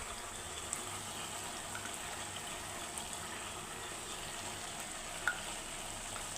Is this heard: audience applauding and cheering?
no